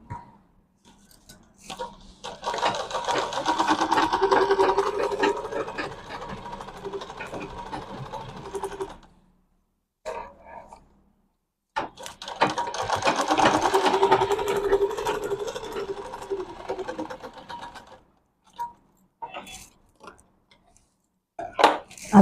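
Sewing machine stitching seams on a medium-sized bag: two sustained bursts of fast, steady stitching, close and fairly loud, separated by a short pause with a few light clicks and handling sounds.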